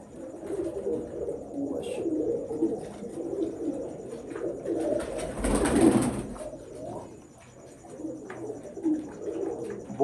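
Pure-bred breeder pigeons coo softly and repeatedly at close range, with occasional chirps and faint background noise, and no talking.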